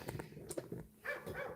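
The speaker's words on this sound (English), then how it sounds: "Oh my god, that dog's annoying." A dog barks outdoors in a few faint, scattered yaps with short whimpering cries, heard from a distance with no talking.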